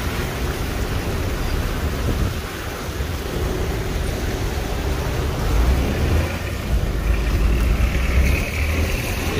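Steady rain falls on a street at Shaheed Chowk in Mirpur, Azad Kashmir, a dense continuous wash of patter with a low traffic rumble swelling beneath it late on.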